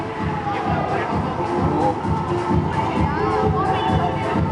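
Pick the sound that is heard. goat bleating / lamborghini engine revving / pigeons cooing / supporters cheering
supporters cheering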